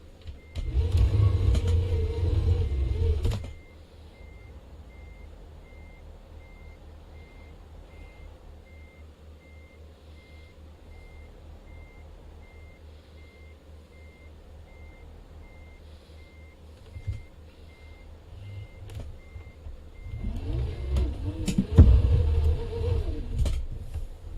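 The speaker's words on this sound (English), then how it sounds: "if I can actually park the trailer." A truck reverses to park a trailer: loud engine rumble at the start and end, with a steady electronic reversing beep pulsing in between over low idling drone.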